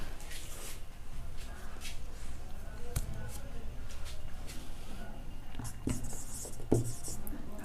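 Chalk or marker writing on a classroom board during an English practice lesson, quiet scratchy strokes and taps in short bursts, with a faint room background.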